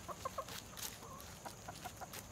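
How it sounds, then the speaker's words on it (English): Young olive egger chickens cluck in short, soft repeated bursts, fairly faint and close, with a steady background hum. "My little olive eggers, they are growing pretty fast."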